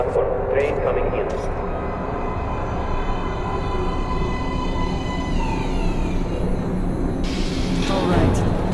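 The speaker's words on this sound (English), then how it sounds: "Please step away from the edge of the platform. Train coming in." A metro train pulls into an underground platform in the video game Metro Last Light, rumbling loudly with metallic squeals and screeching brakes as it arrives, while voices talk over it.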